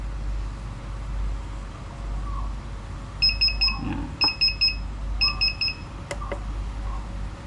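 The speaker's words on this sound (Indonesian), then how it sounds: "kita langsung kita jalankan gerakan mencapai limit switch, ini akan alarm." A CNC motion controller's limit switch alarm beeps in three quick bursts of rapid, high-pitched tones over a steady machine hum, with a short click near the end.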